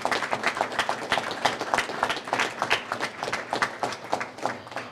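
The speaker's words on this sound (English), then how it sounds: "I mean, that's a huge round of applause." A crowd at a firefighter cancer coverage press conference claps loudly and steadily, a dense close round of applause that holds for several seconds with crisp individual hand strikes.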